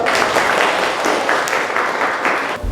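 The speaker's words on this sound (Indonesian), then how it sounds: "Tepuk tangan dulu dong." A classroom of students claps together in steady, continuous applause, close and lively for the whole stretch.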